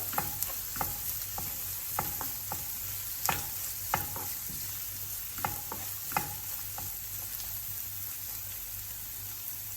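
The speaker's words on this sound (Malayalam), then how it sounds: "ഇതിലോട്ട് 3 അല്ലി വെളുത്തുള്ളി ഇടുക. എന്നിട്ട് നന്നായി ഒന്നുകൂടെ വഴറ്റുക" Onion and three garlic cloves sautéing in a pan, a constant crackling sizzle broken by repeated sharp taps and scrapes of a stirring spoon.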